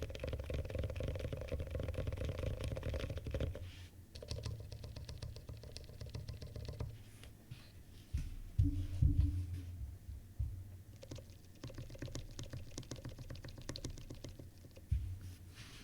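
Keys clatter on a Neverest 60 keyboard with a stainless steel plate and no keycaps fitted, a close, quick patter of bare switch clicks over a low background rumble.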